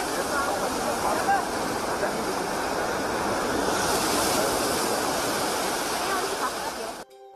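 Ocean waves at Shilaoren bathing beach in Qingdao, Shandong, where surfers ride the breakers, roar as a broad, steady wash of surf, loud and continuous, then cut off abruptly at the end.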